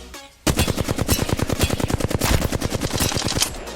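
Flatline assault rifle fired in full-auto in the video game Apex Legends, a long unbroken burst of rapid evenly spaced shots starting abruptly after a brief quiet moment, loud and close, with no talking.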